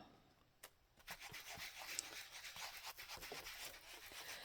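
Faint, close scratchy rubbing as a vintage-photo ink pad is dragged along a paper edge in a Halloween scarecrow journal, a series of soft abrasive strokes with short pauses between them.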